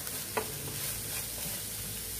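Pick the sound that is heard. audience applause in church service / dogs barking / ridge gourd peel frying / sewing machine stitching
ridge gourd peel frying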